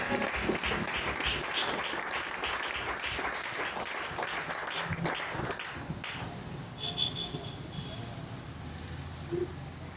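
A church congregation applauds in praise, with steady dense clapping filling the space for about six seconds before fading into a quieter murmur of the room.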